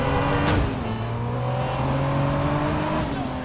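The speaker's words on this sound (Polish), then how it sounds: "Jadę naprawdę szybko, 240 km. Na godzinę!" A Nissan car drives fast at about 240 km/h in the video game Driver San Francisco. Its engine drones with a high, sustained note and shifting pitch, and there is a brief sharp burst near the start.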